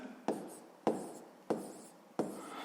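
Numbers written by hand during a sixth-grade maths exercise: four crisp pen-on-paper strokes at a steady interval, close and quiet, each a short scratchy swipe fading out.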